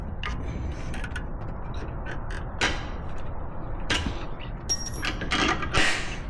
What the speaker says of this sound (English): we're gonna start with taking out the pins. And it should slide